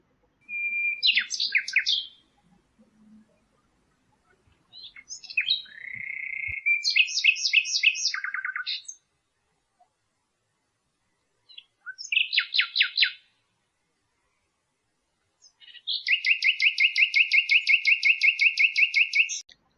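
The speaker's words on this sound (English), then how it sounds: "This is nightingale." Nightingale song in several separate bursts of bright, varied whistles and rapid trills, clear and close against silence, with no talking.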